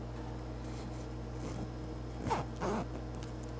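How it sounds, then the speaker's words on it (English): A zipper on a small in-the-hoop embroidered bus zipper bag is pulled open in two short rasping strokes, close and fairly quiet over a low steady hum. "You need to open your zipper. We're going to open it 2/3 of the way over."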